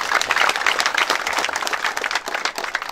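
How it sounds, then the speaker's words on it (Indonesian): An audience at a regional government working visit on Numfor Island applauds, a dense steady clapping that stays loud throughout. "Mari kita tepuk tangan dulu."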